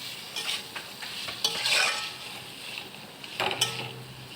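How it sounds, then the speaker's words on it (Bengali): Pumpkin and potato pieces being stirred in a hot pan, with soft sizzling frying underneath and a few distinct scraping strokes of the spatula, close and moderately loud, no talking. "কুমড়ো আলুটা দিয়ে নাড়াচাড়া করে নেব কিছুক্ষণ।"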